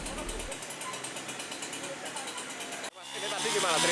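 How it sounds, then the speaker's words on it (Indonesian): A chainsaw cuts through a tree trunk that strong winds toppled onto a car in Madiun, giving a dense, buzzing mechanical drone that revs up near the end, with voices under it. "memotong kayu menggunakan gergaji mesin"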